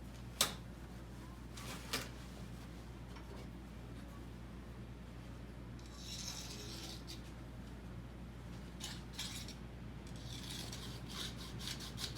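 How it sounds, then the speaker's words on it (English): Hand file rasping at welded metal on a 1936 Ford Tudor door hinge, faint scraping strokes over a steady low background hum, with a couple of sharp clicks near the start. "So I've got to get the file out and start working on it."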